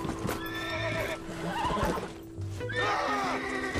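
A bucking horse in the Western video game Red Dead Redemption whinnies and neighs repeatedly over scuffling hoofbeats, loud and close, with game music and ambient noise underneath.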